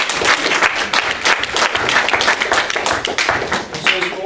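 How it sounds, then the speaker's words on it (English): An audience at a precinct committeeman meeting gives a round of applause for the evening's presenters. The clapping is lively and dense, with a few voices mixed in beneath it. "A round of applause for them."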